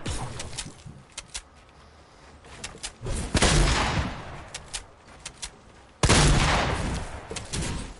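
Video game gunfire comes in bursts of rapid shots, with sharp cracks scattered between heavier sustained volleys, loud and close.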